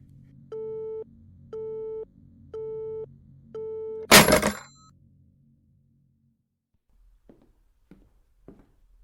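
A telephone busy tone pulses four times in even beeps within the This Is the Police video game, followed by a loud crash and a few faint clicks in near silence.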